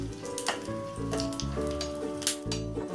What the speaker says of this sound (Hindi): इसमें हम लाल मिर्च डालेंगे, हल्का सा इसे भून लेंगे।